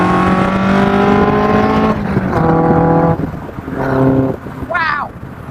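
An Indy R car with a Duratec engine pulls hard through the gears, each upshift cutting the loud, rising engine note before it climbs again, with wind rush around the microphone.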